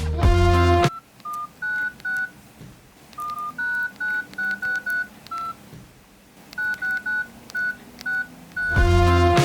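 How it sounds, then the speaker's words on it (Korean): A Nokia 6300 mobile phone keypad plays a melody in DTMF tones, with short, evenly spaced beeps in two phrases separated by a brief pause and louder musical bursts at the start and end. "재능 있는 작곡가들은 전화키로 멜로디를 배웠습니다."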